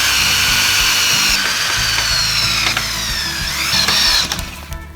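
A power drill loudly drives 3-inch exterior screws into treated lumber while building the floor of a deck box, a whining motor with shifting pitch running almost continuously before winding down near the end.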